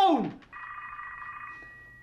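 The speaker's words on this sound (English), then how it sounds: "I'm gonna give you 3 more rings," A telephone rings once in an indoor scene, a sustained electronic tone lasting about a second after a brief sliding note, fading out afterward with no talk over it.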